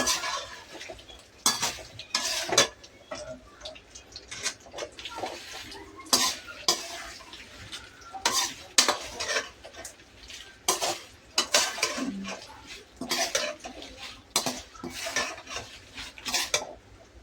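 Dried red chillies frying on a low flame in a pan, stirred with a utensil: steady soft sizzling under repeated scraping and clinks of metal against the pan, close by with no talking.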